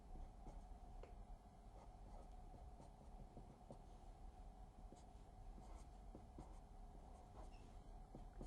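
A pen scratches across paper under a document camera in a quiet room, producing faint, steady strokes and small taps with no talking.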